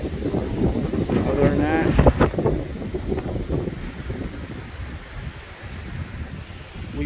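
Wind gusting near Association Island, N.Y., roaring across the microphone as a strong, blustery rumble that swells and eases, with a person talking briefly over it.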